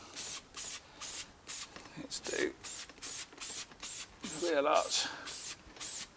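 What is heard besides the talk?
spraying Lanoguard rust treatment under a Mitsubishi Shogun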